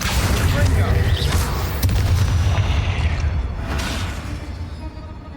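Bombarda blasting-spell explosions in Hogwarts Legacy: loud, dense booming blasts and crackling impacts one after another, with a voice calling out spells over the chaotic battle noise.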